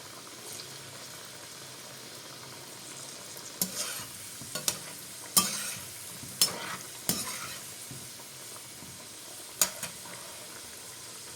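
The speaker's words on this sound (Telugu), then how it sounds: "ఇప్పుడు హీట్ అయిన ఆయిల్లో వేసుకుని వీటిని డీప్ ఫ్రై చేసుకోవాలి." Bhakarwadi rolls deep frying in hot oil on a low flame, a soft continuous bubbling sizzle broken by several louder stirring clinks and splashes, with no talking.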